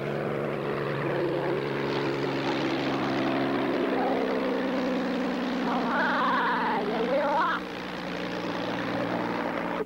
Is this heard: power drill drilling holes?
no